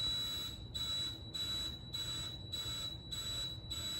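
An elevator door nudge beeper sounds a steady, shrill tone broken by short regular gaps, pulsing about every 0.6 seconds over a low background hum, with no talking.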